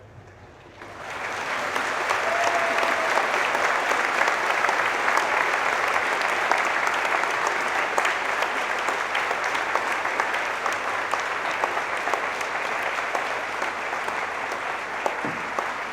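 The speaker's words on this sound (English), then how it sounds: "Please stand up, a big round of applause and cheer." Sustained applause and cheering from a graduation ceremony audience, building within the first second and holding steady and dense for the rest, a large crowd clapping close and loud with occasional whoops.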